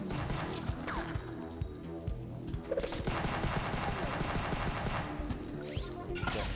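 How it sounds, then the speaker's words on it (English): Machine gun fire in the side-scrolling action game Huntdown, dense continuous bursts of rapid shots with crashes and impacts layered over game music, loud and sustained throughout. "That machine gun."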